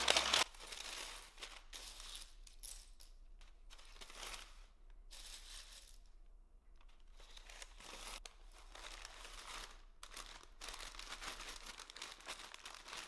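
Parchment paper crinkles and rustles in bursts while being folded into a bag-shaped liner inside a storage bag for long-term pasta storage, with brief quiet gaps between handling sounds, close up and alone.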